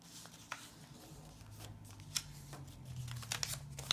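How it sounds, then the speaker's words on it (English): Paper being folded and creased into the wings of a flapping paper bird, a series of soft crisp rustles and sharp crease snaps up close, quiet, with no talking. "So fold up the wings, give them a nice good crease"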